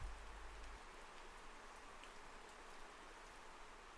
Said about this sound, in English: The colors melded together under the drizzle of a persistent rain.